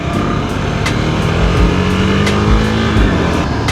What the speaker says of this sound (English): Here's a fun road where you get to blast out your little engine a bit.